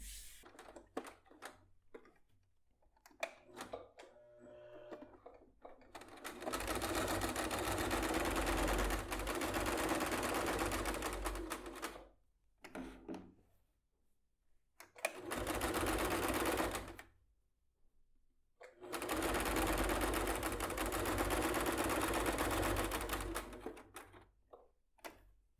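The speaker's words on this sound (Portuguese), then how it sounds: "Vou passar uma costura daqui até aqui." A sewing machine stitches a seam on a zippered fabric bag, with three long steady runs of rapid mechanical whirring separated by pauses filled with quiet clicks and handling noises.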